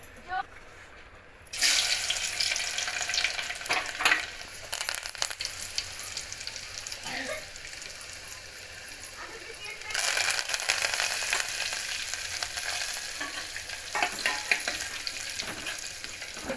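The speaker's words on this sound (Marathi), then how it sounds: "आता आपण पटकन डाळीला फोडणी देऊया" Steady sizzling of cumin and mustard seeds frying in hot oil for a dal tempering, with stirring scrapes and a louder burst of crackling partway through.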